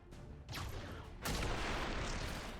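Gunfire in a Star Wars mod of XCOM 2, heard as two heavy blasts with a long roaring, rumbling tail after each, the second louder and sustained to the end.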